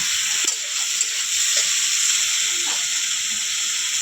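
Chopped potatoes fry in a wok with a steady, even sizzle and hiss, faint stirring scrapes now and then, close and continuous with no talking.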